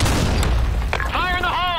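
A grenade detonates in an online shooter match, giving a loud, close, booming blast with a dense rumbling low end. A shouted voice rings out partway through.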